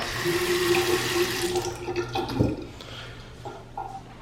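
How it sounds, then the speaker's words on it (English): A bathroom sink tap in a newly moved-into house is turned on, water running steadily with a broad hiss and a brief louder gush partway through, close by and with no talking. "turning that sink on reminds me"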